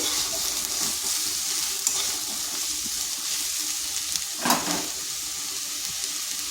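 Drumstick leaves sizzle steadily as they are stirred in a frying pan, a constant hiss with a brief scrape of the spatula partway through.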